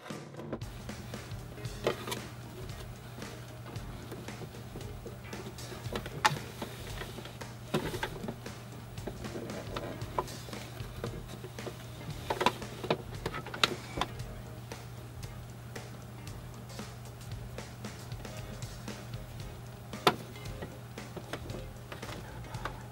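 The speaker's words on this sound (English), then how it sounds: "So I just finished doing the waistband sewing" A sewing machine stitches the waistband of a homemade skirt, with steady low mechanical hum and quick repeated ticking of the needle running continuously and close up, with no voices.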